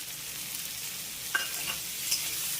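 Peas frying with potatoes in a pan give a soft steady sizzle, with a few light scrapes and clicks of stirring near the middle and end.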